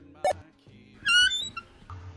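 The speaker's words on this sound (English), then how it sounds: "I hear the door open." A door swings open with a short, high squeak, followed by a few soft bumps and shuffles in a quiet room.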